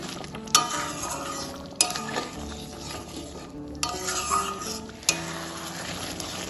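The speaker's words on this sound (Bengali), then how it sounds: "সব কিছু ভালোভাবে মিশিয়ে নেব।" Potol posto gravy with garam masala and fresh cream being stirred and fried in a pan, soft bubbling sizzle punctuated by several sharp clinks of a spoon against the cookware, no speech.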